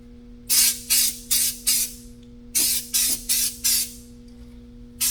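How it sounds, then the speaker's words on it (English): Clear coat sprayed over patina paint on a 1966 Chevrolet, in two sets of four short, loud hissing bursts separated by a pause, with a steady low hum underneath. "now this stuff's supposed to spray on clear"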